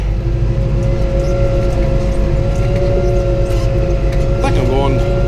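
Vehicle engine under throttle while climbing a steep hill, a loud steady low rumble with harmonic drone throughout, rising slightly near the end; someone talks over it.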